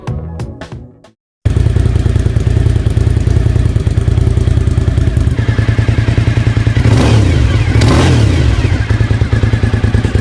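A 1000cc Suzuki TL1000 V-twin motorcycle engine runs loud and close after a brief clattering burst and a moment of silence, holding a rough, throbbing idle with two sharper swells of revving near the end.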